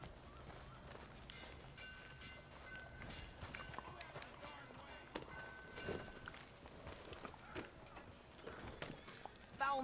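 Horse hooves clip-clop steadily in Red Dead Redemption 2 as riders set off, a rhythmic trotting beat under dense game ambience and music.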